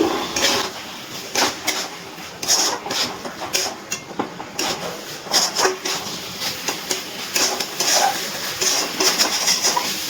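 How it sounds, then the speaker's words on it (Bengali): Chicken for chicken do pyaza is stirred with spices in a pan, and a utensil scrapes and clacks against the metal in an irregular rhythm over a low sizzle. The sound is close and busy, with no talking. "এবার মশলার সাথে চিকেনটা ভালো করে নাড়াচাড়া করে মিশিয়ে নিচ্ছি"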